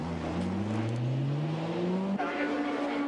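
Nissan GT-R race car pulling out of the pit lane at the Tokachi 24 Hours endurance race in 1995, engine note climbing steadily through a long gear, then a sharp upshift and continued loud, near acceleration.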